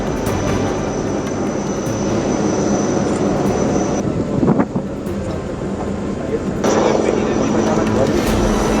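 A Dornier fixed-wing aircraft flies over a naval rescue exercise involving ships and a helicopter, its steady engine drone continuous and fairly loud with wind rumble, dipping briefly midway before swelling again.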